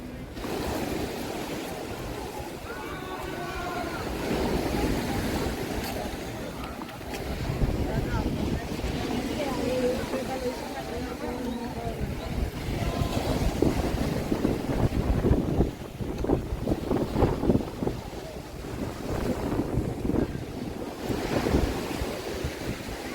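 Sea waves roll and wash against a Greek beach while gusts of wind buffet the microphone, a steady, close surf wash with rumbling swells that grow stronger toward the middle and end.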